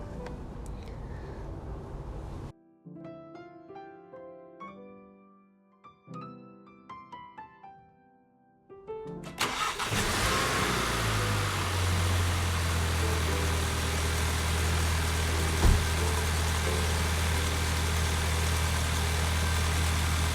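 A Volkswagen Jetta engine, with a weak battery that sags below 10 volts, cranks and catches, then settles into a steady, loud low idle with a constant hum, preceded by a few seconds of unrelated tonal sounds.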